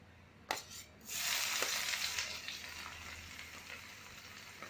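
Sliced onions hit hot oil in a pan with a sharp splash, then settle into a steady crackling sizzle that fades slowly, close and fairly quiet with no talking.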